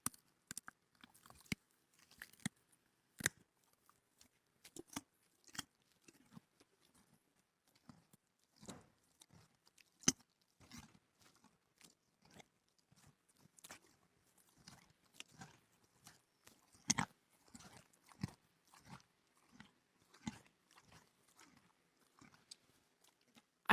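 A horse named Miss Monica chews and crunches feed up close, with irregular crisp bites and grinding scattered over a long quiet stretch, faint and a little muffled.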